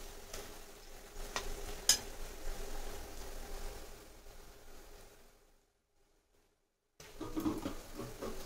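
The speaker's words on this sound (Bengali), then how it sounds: "পেঁয়াজটা কিন্তু আমার এদিকে আর একটা গ্যাসে ভাজা হচ্ছে।" Onions frying in a pan on a gas stove give a low, steady sizzle with a faint scrape near two seconds. The sizzle drops to silence for a moment partway through, then returns.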